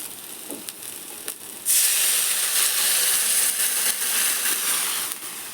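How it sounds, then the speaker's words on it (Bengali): Water poured into a hot pan of fried green bananas sets off a sudden loud hissing burst of steam and sizzle that stays strong before easing, after a few quieter clinks. "কলাগুলো ভাজা হয়ে গেছে, এবার আমি জল দিয়ে দেব।"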